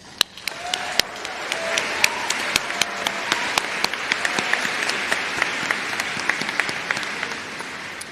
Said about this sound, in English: Join me in extending a round of applause to all those who supported you on this journey here